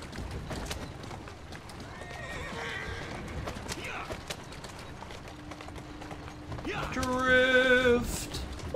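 A horse in Assassin's Creed Syndicate clip-clops along the street with mechanical rattling in the background, then lets out a loud, drawn-out neigh near the end.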